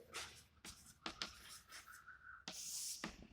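Pen or marker scratching across a writing surface while a logic expression is written out by hand, in short strokes and bursts with brief pauses, fairly faint and close.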